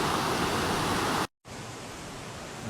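Bright Angel Creek in the Grand Canyon flows with a loud, steady broadband rush close by, cut by a brief silent gap before the rushing resumes slightly softer.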